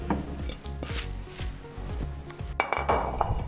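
A plate clinks down on a kitchen counter, with scattered glassy knocks and chinks of crockery around it after minced beef has been mixed with tomato, onion and pepper, close and moderately loud with no talk.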